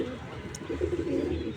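Pigeons kept in a loft on an office rooftop coo in low, throaty, repeated phrases, close by and fairly continuous, with a brief high chirp partway through.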